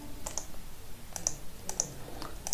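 Mouse clicks on a button in a Microsoft Excel spreadsheet, heard as several short, sharp, quiet clicks spaced irregularly over a faint background hum.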